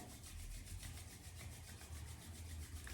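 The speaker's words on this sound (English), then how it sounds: "Rub the palms together." Palms rubbing together during a full moon meditation, giving a steady, close, continuous swishing friction that runs without pause and with no talking.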